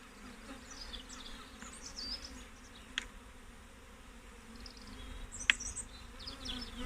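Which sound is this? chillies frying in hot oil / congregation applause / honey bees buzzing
honey bees buzzing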